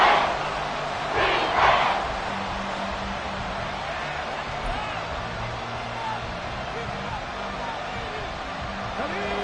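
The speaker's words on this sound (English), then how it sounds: "This crowd turning up the decibel level." Stadium crowd in a football video game, Bears late in the game near a timeout: a steady, dense roar of cheering that swells briefly near the start and holds loud throughout, with a commentator's voice over it.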